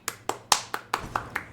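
Light applause from a small crowd in the video game Hades, heard as seven or so sharp, evenly spaced hand claps, fairly close and alone with no talk.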